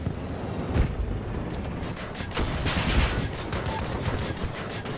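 Battlefield 2042 artillery fires in a sustained barrage, dense booming blasts and cracking reports overlapping into a continuous loud roar of battle, with no voices over it.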